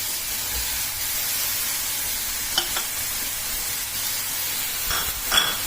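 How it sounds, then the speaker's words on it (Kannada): Two chopped tomatoes sizzle and fry in a hot pan for mutton kaima ball sambhar. A steady, loud frying hiss is broken by a few brief clinks and scrapes as the mix is stirred, with no talking. "ಫ್ರೈ ಆದಮೇಲೆ 2 ಟೊಮೊಟೊ ಹಣ್ಣು ಕಟ್ ಮಾಡಿ ಇಟ್ಕೊಂಡಿದ್ವಲ್ಲ ಅದನ್ನು ಸೇರಿಸ್ಕೊತಾ ಇದ್ದೀವಿ."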